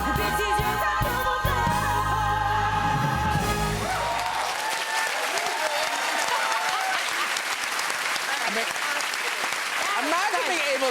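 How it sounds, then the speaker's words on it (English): A studio audience at a TV chat show breaks into loud applause and cheering as music ends, with the band's final bars fading into sustained clapping and excited voices. "This is a round of applause."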